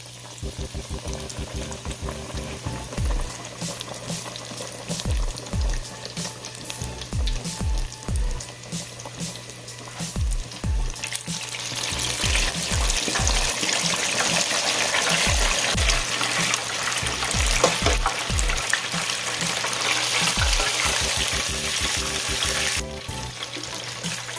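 A Cornish hen bubbling in a basket of hot deep-frying grease, a steady loud seething hiss that swells and grows denser partway through, with dull intermittent knocks underneath and no talking.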